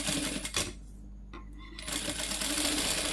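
A sewing machine stitches a silk pattu pavadai skirt for a three-month-old baby, a close, loud, fast mechanical rattle that pauses briefly in the middle, then resumes running steadily.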